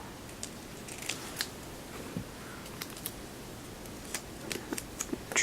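Scissors trimming material for storing perfume samples, with quiet, scattered snips and clicks close by in an otherwise hushed room.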